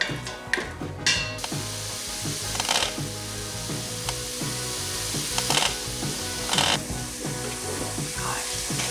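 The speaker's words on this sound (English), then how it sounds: "I can hear the sizzle already." Onion and garlic sizzle steadily in an Instant Pot, a continuous hiss with occasional scraping and clattering from stirring.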